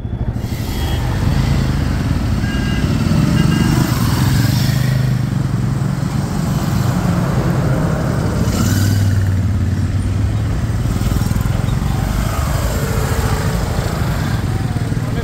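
About ten motorcycles drone steadily together on a group ride, a continuous rumble of bikes riding nearby, with wind noise over it.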